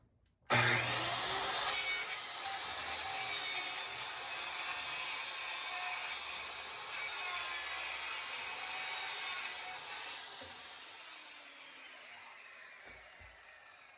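Power saw cutting through a board set shallow to avoid the roof during a van floor and ceiling build, a loud, sustained whining grind that starts abruptly, runs about ten seconds, then winds down and stops.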